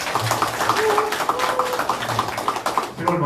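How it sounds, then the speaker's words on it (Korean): An audience at a public Gaya history lecture in Namwon claps in a brisk, uneven patter of close hand claps, with a voice talking over the applause. "박수 한번 쳐드리죠."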